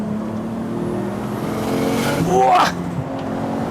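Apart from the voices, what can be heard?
Nissan Skyline GTT engine revving while driving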